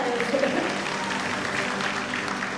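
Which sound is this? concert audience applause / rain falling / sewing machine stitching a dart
concert audience applause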